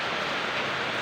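Steady, even hiss of rain falling in Pampanga, a dense wash of drops with no gaps and no voices, moderately loud throughout.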